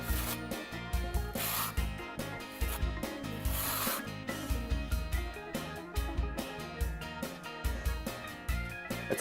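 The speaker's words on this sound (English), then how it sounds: "Apply the adhesive with a 12mm notch trowel." A 12mm notched trowel scrapes tile adhesive across a bathroom floor in repeated rough, gritty strokes, close and fairly quiet, with no one speaking.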